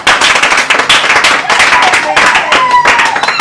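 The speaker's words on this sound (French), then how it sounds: "on l'applaudit très fort" An audience at a Miss Indépendance casting in Kongo Central, DR Congo, applauds a contest candidate with loud, dense, sustained clapping, and voices are mixed in.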